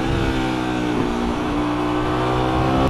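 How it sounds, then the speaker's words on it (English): Motorcycle engine running close up as the clutch is pulled, the throttle is blipped quickly and the bike downshifts, giving a steady engine drone with a short rise and dip in pitch. "I pull the clutch in, give a quick blip and then shift it to a lower gear."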